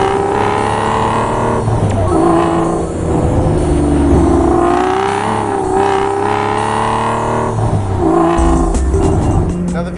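Aston Martin V12 Vantage with a hardtop, six-speed manual and Flowmaster exhaust, its engine droning loud and close with a rich, continuous roar that rises and falls as the car is driven and revved.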